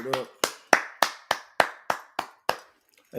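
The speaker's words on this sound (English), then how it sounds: "Clap it up." Crisp, evenly spaced hand claps from a small group at a street gathering, about nine sharp beats in a steady rhythm, close and distinct, with a brief voice at the start.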